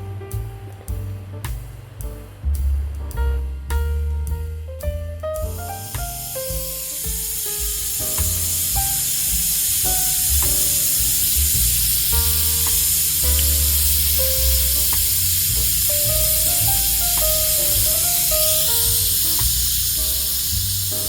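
A pressure cooker of curry turkey neck starts with rhythmic puffs and clicks, then settles into a loud, continuous steam hiss with shifting whistling tones over a low bubbling rumble, heard alone with no talking.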